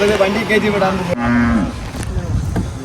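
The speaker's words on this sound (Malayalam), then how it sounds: "അപ്പോൾ അതാ നമ്മൾ പശുവിനെ രാവിലെ വണ്ടിയിലേക്ക് കയറ്റുകയാണ്" An HF Jersey cow moos loudly and close by in the morning as she is loaded onto a vehicle with her calf nearby, one long call followed by quieter farmyard noise.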